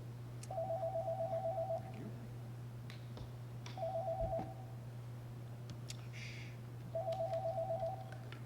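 Repeated electronic tone bursts from a telephone call-in line being tested, three short beeping sequences spaced a few seconds apart over a steady low hum in a quiet room.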